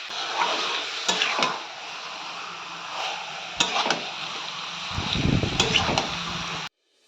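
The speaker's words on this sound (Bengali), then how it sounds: "আজকে মাটনটা রান্না করছি তাই একটু ভালো করে কষিয়ে রান্না করার চেষ্টা করছি" Fatty mutton is sautéed and stirred in a hot pan, giving a continuous loud sizzle with repeated scraping and clattering strokes before it cuts off abruptly.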